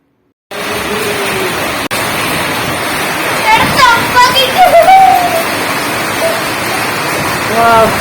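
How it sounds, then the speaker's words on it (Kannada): Heavy rain pours down in a dense, loud, constant rushing hiss, broken by a few faint tonal squeaks and knocks in the middle. "ಮಳೆ ನೋಡಿ ಎಷ್ಟೊಂದು ದಿನ ಆಗಿತ್ತು"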